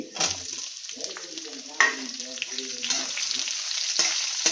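Chopped onion fries in hot oil in a pan with mustard seeds, cumin, chana dal and curry leaves, a steady close sizzle with a few sharp stirring scrapes and no talk.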